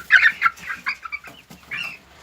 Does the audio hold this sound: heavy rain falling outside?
no